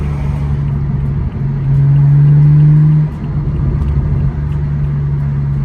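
A car engine, either a Mini or a BMW, runs at low revs near 1500 RPM as the gears change, a loud steady rumble that rises in pitch and strength for a second before dropping back as the gear is taken.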